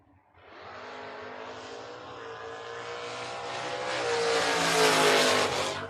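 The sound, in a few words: drag racing cars, wagon against a Mustang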